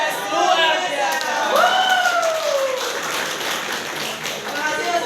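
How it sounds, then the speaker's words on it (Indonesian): An audience applauding a speaker at a Kelas Inspirasi briefing day in Jepara, Indonesia: steady, sustained clapping from a room full of people, with a voice speaking over it. "Sekali lagi tepuk tangan untuk Kak Kartika Sari"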